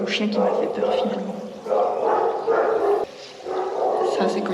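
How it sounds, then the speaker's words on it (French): A dog barks at close range near hot springs and rocky ground in Greece. Loud barks come in several repeated bursts, with brief pauses between them. "C'est le chien qui m'a fait peur finalement."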